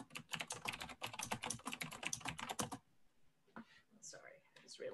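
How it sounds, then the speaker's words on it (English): Someone types quickly on a computer keyboard, a dense run of close, loud key clicks lasting a few seconds, then it stops and quieter speech follows. "It was typing, not muted again."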